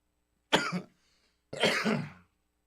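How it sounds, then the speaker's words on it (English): Two harsh, close coughs after a hit from a bong, about a second apart, each short and forceful, with silence around them. "Cough it out. Get it all out."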